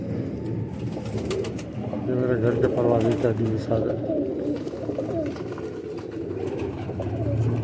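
Lively high-flying pigeons kept at a home loft coo repeatedly in soft, throaty bursts close by, while someone talks steadily over them throughout.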